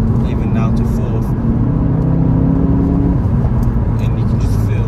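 A 2016 Ford Focus RS with a 2.3L engine and six-speed manual hums steadily from inside the cabin during downshifts, a loud continuous low drone with small shifts in pitch.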